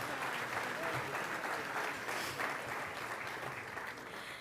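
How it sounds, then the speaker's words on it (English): Banquet audience applauding at a charity event in Toledo after a large check is presented, a dense, sustained wash of clapping that fills the room steadily, with some murmuring voices mixed in. "Ladies and gentlemen, give them a big round of applause for that ginormous check."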